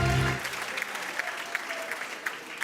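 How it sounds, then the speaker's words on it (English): Audience applause at an awards gala ceremony for a performer who won the 2014 Agri's Got Talent competition, a steady clapping wash with a few sharper claps, preceded by a brief low musical tail. "Another round of applause for Ayabonga"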